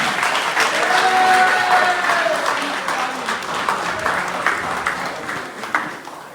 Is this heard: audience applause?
yes